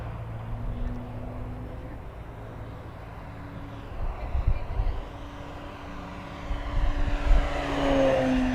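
An FMS Pitts V2 1400mm RC airplane flies over a paved runway, its propeller engine droning at mid distance and rising and falling in pitch as it passes, with wind noise.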